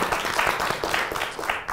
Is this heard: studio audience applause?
yes